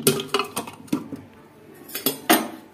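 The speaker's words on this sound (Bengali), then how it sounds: "ডালটাকে চামচ দিয়ে একটু ঘেঁটে নেব।" A spoon stirs and knocks against a pot of pressure-cooked dal, producing a handful of close metallic clinks and scrapes in uneven bursts with quiet pauses between.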